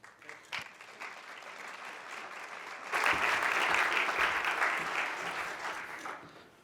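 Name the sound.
congregation applause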